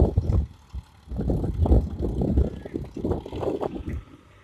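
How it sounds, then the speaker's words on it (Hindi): An Indo Farm 2035 DI 35 HP tractor drives an 8-foot rotavator outdoors, a rough, pulsing engine and soil-churning rumble with gusty wind noise on the microphone. "Indo farm 2035 D I model, इसमें रोटावेटर अभी हम लोग चेक कर रहे हैं"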